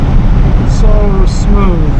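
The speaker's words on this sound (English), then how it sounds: "Nothing like driving on new pavement." Steady low cabin rumble and road roar from a 1963 Buick Wildcat with a 401 nailhead V8, cruising on freshly repaved, smooth road, with a voice speaking over the constant drone.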